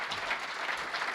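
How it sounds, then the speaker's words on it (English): A short burst of audience applause at a medical devices funding event, a steady wash of clapping lasting just over a second. "Give them a round of applause."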